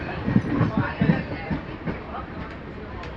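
A Chennai–Shirdi express train with LHB coaches rumbles past close by with rhythmic clickety-clack of wheels over rail joints, steady and fairly loud throughout.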